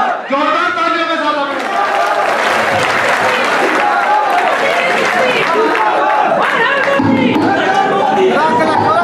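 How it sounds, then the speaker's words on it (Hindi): A large crowd at a Jat gathering in Shamli applauds and cheers at a political rally as Amit Shah is welcomed, with a loud voice over the noise and a few shouts rising from the crowd. "जोरदार तालियों के साथ"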